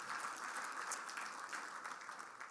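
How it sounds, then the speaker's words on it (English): A conference audience applauds at a speaker's introduction, a faint, steady wash of many hands clapping heard from some distance. "Round of applause for Beck."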